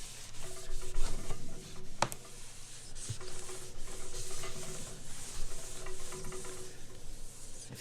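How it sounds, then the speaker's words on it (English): Chalk or marker board being wiped clean by hand in a classroom, a steady soft rubbing and scrubbing texture with a few sharp knocks, close and moderately loud, no talking. "Let me clear the board here and we'll move on."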